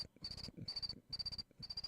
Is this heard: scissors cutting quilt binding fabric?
no